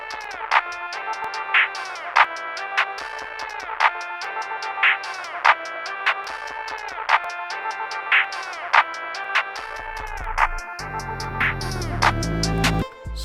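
A hip-hop beat made in FL Studio 20 repeats a bright melodic loop with regular percussive hits, then slows into halftime. Filter and EQ automation give it a thin, old radio or phone tone, and a deep bass swell rises near the end.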